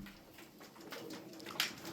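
Pigeons cooing among a group of birds kept for sale, including white ones: soft, faint coos and rustling close by, with a brief sharper call near the end, no voices.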